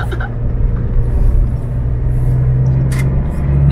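A Toyota Revo 2.8 Smart Cab pickup with manual transmission climbing a hill in third gear, giving a loud, steady low engine drone heard from inside the cab, with faint brief sounds over it.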